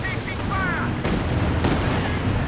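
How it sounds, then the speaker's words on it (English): Land Mattress rocket artillery fires in Company of Heroes 2, a battle video game, with two sharp, loud bursts over a constant rumble of battlefield noise and a brief voice early on. "The land mattress, great hits on the ISG."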